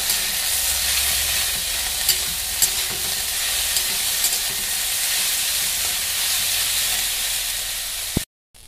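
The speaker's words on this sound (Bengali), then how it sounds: "ভিন্ডি আলুটা প্রায় অর্ধেক ভাজা হয়ে গেছে, এখানে আমি এর মধ্যে ছানাটা দিয়ে দিই।" Okra and potato stir-frying in a pan with chhana added, a steady close sizzle and hiss with light stirring scrapes, continuous throughout, cutting off abruptly near the end.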